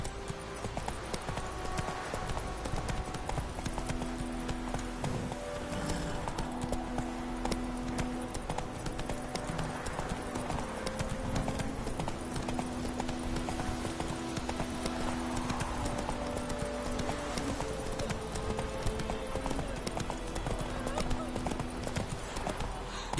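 Horse hooves clip-clop steadily at a gallop in The Witcher video game, a continuous rhythmic pounding that runs under in-game speech and background music.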